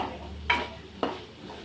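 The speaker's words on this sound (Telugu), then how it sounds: "చికెన్ ఫ్రై మంచిగా ఆయిల్లోనే ఉడికించిన ముక్కనైతే ఉడికింది ఉడికింది" Chicken pieces frying in oil in a home kitchen, a low steady sizzle with two sharp scraping or stirring knocks of a utensil against the pan, close and fairly quiet.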